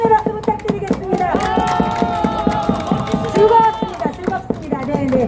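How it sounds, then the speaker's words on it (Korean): Crowd at a street rally near Gangnam Station clapping in rhythm, steady rapid claps with cheering and chatter mixed in, fairly close and loud throughout. "우리 민 대표님 다시 한번 응원의 박수 부탁드리겠습니다"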